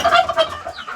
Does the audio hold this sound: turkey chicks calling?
yes